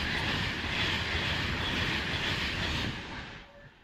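A passenger train roars through Watford Junction station on the West Coast Main Line at close range with a broad rumbling rush that holds steady, then fades quickly as it moves away.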